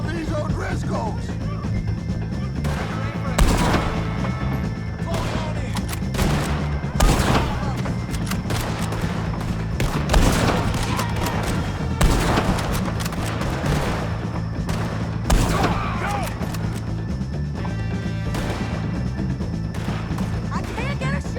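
Gunfire in Red Dead Redemption II during a fight with O'Driscolls: repeated loud gunshots and booms scattered through a busy, noisy battle, with voices shouting over the shooting.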